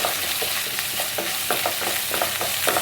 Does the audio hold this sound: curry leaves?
yes